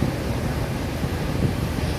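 Heavy water tumbling down Athirappilly waterfall, a dense, unbroken roar of rushing spray close by, constant in loudness throughout.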